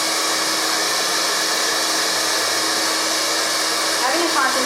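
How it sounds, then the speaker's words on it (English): A hair dryer fitted with a concentrator nozzle blows steadily and loudly at close range while styling hair in a barbershop, a continuous airy roar with a slight shift near the end. "Having a concentrator nozzle on a hair dryer is awesome with this style, because you just blow it down."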